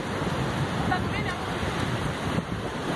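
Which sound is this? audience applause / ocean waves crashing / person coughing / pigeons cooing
ocean waves crashing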